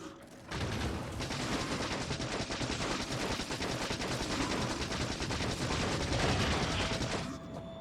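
Sustained rapid turret gunfire in Factorio, a dense continuous rattle of automatic shots lasting several seconds at steady loudness with no talking.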